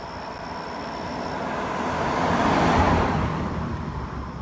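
Cars passing on a road during a morning walk, a broad whooshing swell that builds, peaks near the close and then recedes, with no talking.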